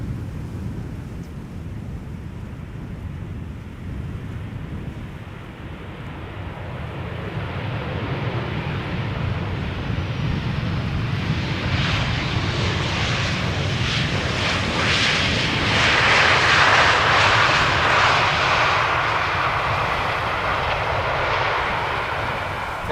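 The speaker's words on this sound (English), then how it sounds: "This is KLM flight 1502 arriving from Madrid." KLM passenger jet arriving at Amsterdam Schiphol's Polderbaan runway from Madrid, its engine rumble growing from a distant drone into a loud roaring pass with wind buffeting the microphone, then easing slightly.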